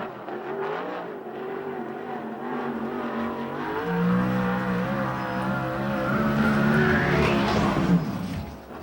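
A USAC/CRA sprint car runs a qualifying lap at Perris, California, its engine note rising and falling through the turns before swelling louder and sweeping past near the end, heard alone without talk.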